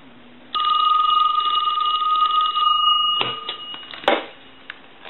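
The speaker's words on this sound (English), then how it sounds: "we'll go ahead and hang the telephone up and we'll ring it" A Western Electric Trimline wall telephone bell rings in one long, close, buzzing trill for a few seconds, then stops with a clunk and a few handling knocks.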